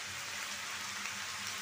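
Steady rain falls outdoors in an even, hissing wash of drops, quiet and constant throughout, with a faint low hum underneath and no voices.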